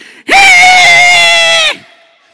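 A voice imitates a car engine screaming at about 80 mph, one loud, sustained, strained high wail lasting over a second before cutting off.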